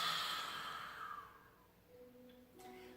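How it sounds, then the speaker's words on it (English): A single long breathy exhale through an open mouth, a lion's breath from the back of the throat, loud and close at first and fading over a few seconds. "make that sound through the back of your throat like ah"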